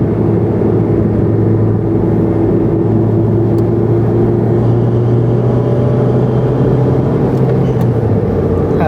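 Honda Civic Si FA5 with an A'PEXi WS2 Noir exhaust cruising on the freeway in fifth gear around 3,500 rpm, windows closed: a steady, loud low engine drone with a constant hum and road noise inside the cabin.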